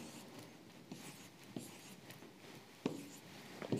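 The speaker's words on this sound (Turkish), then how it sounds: "şimdi yazıyoruz" Pen or marker strokes scratch on a board or paper during an 11th-grade chemistry lesson, quiet and intermittent, with a few sharper taps between the strokes.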